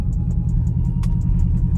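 A 2021 Dodge Durango driving through a snow storm, its engine and tire rumble steady and loud from inside the cabin, with faint rhythmic ticking over the low drone.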